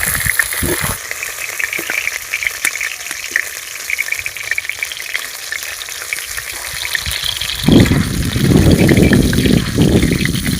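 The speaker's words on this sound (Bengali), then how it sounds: "আমি ওই মাংসগুলোকে ভেজে নেব" Chicken pieces for chili chicken fry in hot oil in a wok, giving a loud, steady sizzle that swells into a heavier, bubbling surge toward the end.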